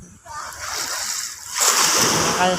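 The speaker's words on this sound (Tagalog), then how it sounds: "Lakas ang alon" Strong sea waves splash and surge close by at the shore in two rushing bursts, the second louder and fizzing with spray.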